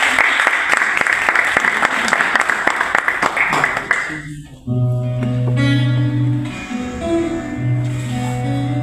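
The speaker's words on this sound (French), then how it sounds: "on t'applaudit bien fort, Sébastien" Audience applause for a singer, Sébastien, at a singing casting event at a community centre: dense, loud clapping for about four seconds, then it breaks off and a song with music and a singing voice takes over.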